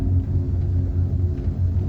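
A cable car gondola passing over rain forest gives a steady, heavy low rumble that pulses slightly, loud and close throughout, with no voices.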